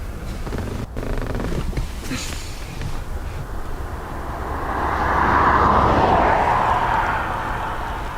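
A Ryanair jet at Dublin Airport on a rainy day produces a distant engine roar that swells to a broad, rushing peak midway, then slowly eases back, with no voices.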